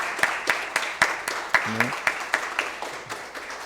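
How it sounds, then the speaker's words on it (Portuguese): Audience applause in a municipal council chamber, a run of roughly a dozen spaced, moderately close claps while a voice speaks briefly over them. "Se você puder dar um aplauso ao Senhor."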